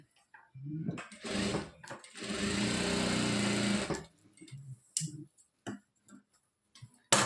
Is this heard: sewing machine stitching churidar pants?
yes